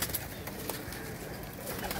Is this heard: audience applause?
no